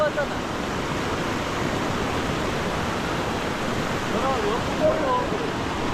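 Floodwater from heavy monsoon rain in the Konkan rushes over a blocked road, a steady broadband roar of flowing water and rain that fills the whole stretch at an even, loud level.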